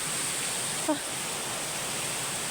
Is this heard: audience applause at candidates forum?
no